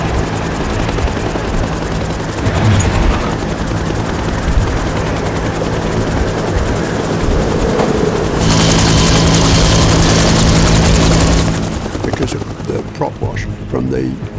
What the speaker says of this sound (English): Because of the weather conditions, the pilot's going to maintain a hovering position.